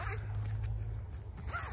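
A zipper on a Russian army insulated sleeping bag in EMR Digital Flora camouflage is pulled along in a steady close rasp, with brief bursts near the start and end.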